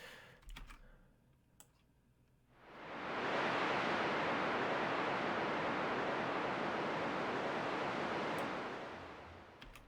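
Filtered white noise shaped with a shelf filter to mimic a natural sound, swelling in after a quiet start into a broad, steady hiss that holds and then begins to fade.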